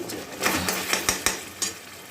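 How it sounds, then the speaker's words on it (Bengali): Butter goes into a pan of peas as a spoon stirs, giving a quick run of light clinks and scrapes against the pan, close and fairly quiet, with no voices. "একটু বাটার দিয়ে দিচ্ছি"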